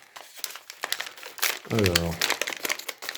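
Plastic packaging crinkles and crackles as mystery coffin boxes of Zombaes Forever mini dolls are opened, close and busy, under a voice speaking French.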